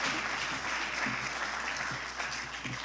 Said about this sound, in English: Let's give a round of applause to Ericka Knowles from Newark Now.